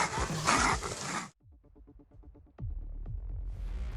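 German Shepherd dog whimpering in a series of short, high, strained whines, close by, between bursts of louder noisy commotion.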